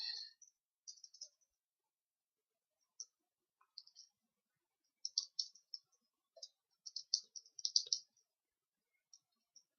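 Short bursts of clicking keystrokes on a computer keyboard as a quote description for a sofa restoration is typed, quiet and close, in irregular clusters with pauses between them.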